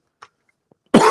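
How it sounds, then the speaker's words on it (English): A single sharp cough bursts out close to the microphone after near-silence and a couple of faint small noises. "oh, sorry about the cough"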